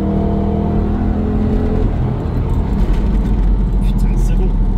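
A 300-horsepower Ford Mustang GT engine pulls hard under acceleration, a loud, continuous low rumble and whir filling the cabin, steady throughout with no voices.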